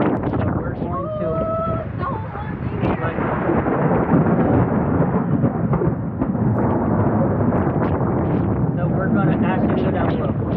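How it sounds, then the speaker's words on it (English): Strong storm wind roars steadily around an anchored sailboat on rough, whitecapped water, a loud continuous broadband rush with gusty swells throughout and some voice mixed in. "It's still blowing about 20 knots and lots of white caps"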